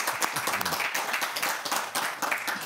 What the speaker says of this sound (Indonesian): Tepuk tangan buat Bung Fadli.